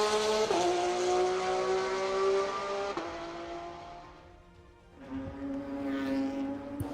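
Porsche Cup race cars pull away from the starting grid at Willow Springs. Loud engines rev and climb in pitch, shifting through gears, with several cars passing close one after another.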